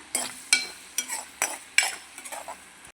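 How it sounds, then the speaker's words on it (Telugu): A spoon stirs broad bean curry in a pan, giving about eight sharp scraping clinks in an irregular rhythm, close and fairly loud with a faint sizzle underneath. "ఒకసారి తిప్పుకుందాము వేగింది కదా"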